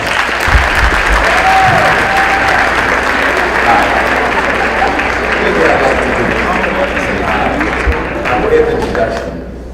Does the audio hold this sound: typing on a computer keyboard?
no